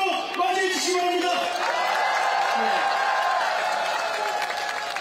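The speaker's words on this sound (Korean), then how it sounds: "큰 박수로 맞이해 주시기 바랍니다." A crowd applauds and cheers to welcome a Korean presidential candidate at a rally in Changwon, a continuous wash of clapping and shouts with a voice calling out over it.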